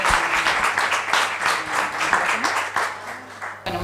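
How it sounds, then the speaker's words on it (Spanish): Dense, steady applause from the audience at a cardiovascular unit conference at a Chilean clinic, sustained for several seconds before cutting off abruptly near the end. "Un fuerte aplauso, por favor."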